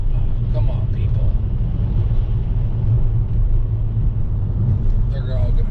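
Cars passing on a nearby road, a continuous low rumble of traffic swelling and fading, with a person talking over it.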